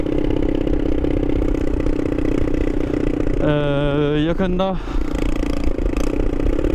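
A Superlight motorcycle with its exhaust silencer removed runs loud and close with a rough open-pipe drone throughout, rising briefly into a rev, while someone speaks a few words over it.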